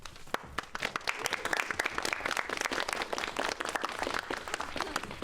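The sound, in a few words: audience applause for Audrey Hilton in video game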